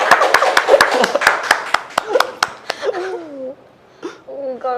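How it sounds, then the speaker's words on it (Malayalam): People clap hands in a quick burst of sharp claps at a live marriage proposal with a ring, the clapping soon giving way to vocal sounds and talk. "കൈയടിക്ക്."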